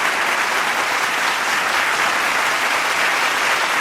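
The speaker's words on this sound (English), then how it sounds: "I'm just gonna let you guys clap for a little bit" A live audience claps steadily and densely, a continuous wash of applause that holds at an even level from start to finish with no voices over it.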